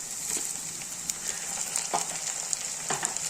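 Curry leaves frying with softened onions in a pan for Chettinad prawn thokku, giving a steady close sizzle with occasional stirring scrapes and small crackles.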